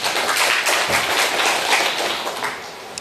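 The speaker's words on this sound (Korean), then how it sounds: "우리 앞에 앉아 계시는 선생님께 박수 한번 쳐주시기 바랍니다" An audience at a health lecture on natural healing breaks into applause for a teacher seated in front, a dense wash of steady clapping that stays loud for the whole stretch before tapering slightly at the end.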